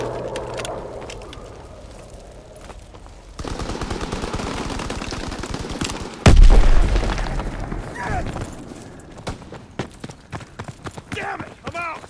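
In the Call of Duty WWII game, rapid gunfire rattles throughout, then a grenade explosion booms loudly at mid-clip, followed by continuing shots and battlefield noise.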